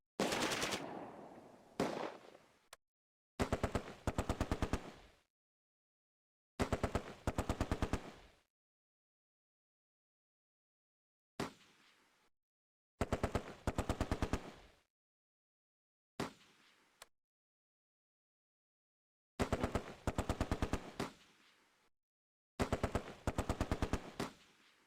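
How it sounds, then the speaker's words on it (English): A Vickers machine gun fires in the Close Combat wargame, set at Arnhem, in repeated loud, rapid bursts of a few seconds each, separated by silent gaps, with a few shorter single bursts in between. "The Vickers continues to cause casualties on enemy troops in the open."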